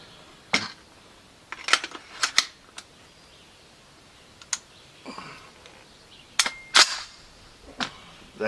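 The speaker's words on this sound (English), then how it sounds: "Alright, so this will be my first shots downrange." A Noreen BN36X3 AR-platform rifle chambered in 30-06 fires a scattered string of sharp reports with irregular gaps between them, some single and some in quick pairs, each short and punchy against a quiet background.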